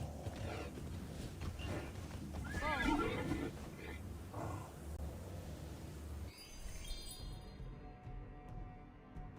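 A horse neighs in the Immortals Fenyx Rising video game, one clear, wavering whinny rising and falling near the middle over a busy bed of game sounds and hoof movement, with ambience fading out at the end.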